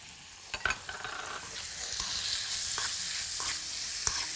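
Onion powder, nutmeg and spices stirred in a hot frying pan, giving a continuous sizzle punctuated by several sharp scraping and tapping strokes of the spoon, close and moderately loud with no talking.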